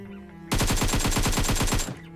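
An AKM rifle in PUBG Mobile fires a rapid burst of about a dozen sharp shots in quick, even succession. The shots are loud and close, with quiet before and after.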